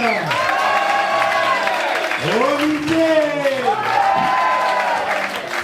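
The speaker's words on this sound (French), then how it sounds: "attendez un applaudissement" Audience applause and cheering at a live improv show, a steady crowd sound throughout with a host's voice calling out names over it.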